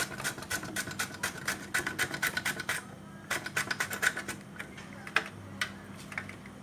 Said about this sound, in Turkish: Kabakları buradan rendelerken ellerime zarar vermesin diye. Şöyle rendeliyorum, ince ince kıyıyorum.